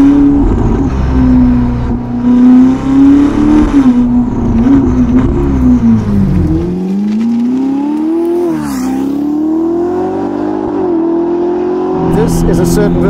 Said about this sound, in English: This is a certain version of the exhaust.